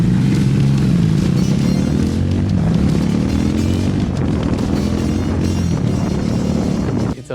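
A Triumph Scrambler 400X's liquid-cooled 398 cc single-cylinder engine drones loudly and steadily while riding, with continuous wind rush and road noise throughout.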